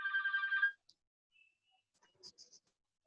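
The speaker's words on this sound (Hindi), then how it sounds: "एक मिनट, कौन फोन कर रहा है?" A telephone bell rings in a short burst of repeated trilling for under a second, followed by faint scattered clicks and small noises in a quiet room; no one speaks.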